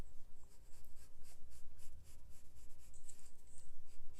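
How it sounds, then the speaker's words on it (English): A pen draws dart lines on a pattern tracing made of embroidery stabilizer, a close, rhythmic scratching in quick repeated strokes, each one short and even. "I'm drawing the sides of the dart."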